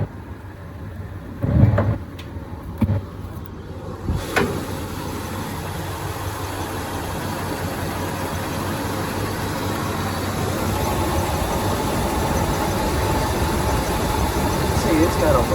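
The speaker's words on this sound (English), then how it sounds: "It's an old tired engine." An old, tired V8 in a 1966 Ford Country Squire idles with a low, steady rumble after a few knocks and clunks at the start, growing slightly louder toward the end with no talk over it.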